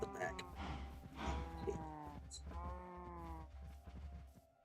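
Cows in the Minecraft video game moo repeatedly in long, overlapping low calls, several animals close by and loud, with a steady game ambience underneath and no talking.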